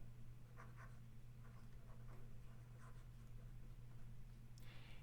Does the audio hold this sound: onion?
no